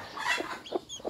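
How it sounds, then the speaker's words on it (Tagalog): A Brahma rooster, a native crossbreed's sire, gives a few short close clucks in a quick uneven burst, with no voices over it. "Ayan, ito yung aking rooster na Brahma."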